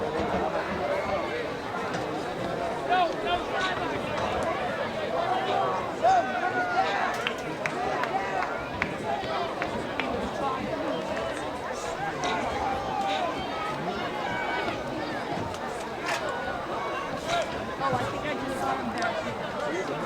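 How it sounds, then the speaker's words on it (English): A high school football crowd at a Braintree vs Quincy game gives a sustained ovation as a player returns to the field, a steady wash of cheering and applause heard from a distance without a break. "Steinberg comes back on the field to a great reception by the crowd"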